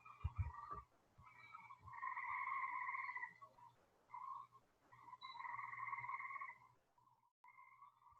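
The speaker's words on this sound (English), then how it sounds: "So I did go around and catch the gray tree frog sound." A gray tree frog gives repeated trilling calls outdoors, each sustained pulsing trill lasting about a second, faint and fairly distant, with short pauses between calls and no talk.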